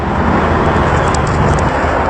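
An African grey parrot mimics a car engine starting, producing a steady, dense rumbling drone that holds evenly and loudly.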